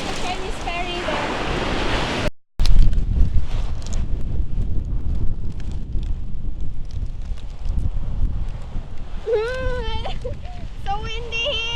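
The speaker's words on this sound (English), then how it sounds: "So windy here." Strong wind blows by the sea with surf, a steady rushing roar and mic buffeting throughout. People talk over it, and a ferry is nearby.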